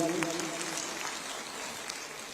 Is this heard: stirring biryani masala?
no